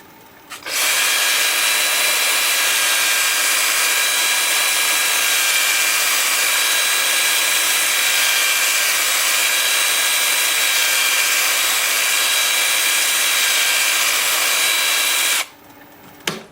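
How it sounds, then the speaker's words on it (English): A loud, steady power-tool whine runs continuously for about fifteen seconds at close range, starting and stopping abruptly, as a sander works a spinning turned wooden piece on a lathe. "Time for sanding."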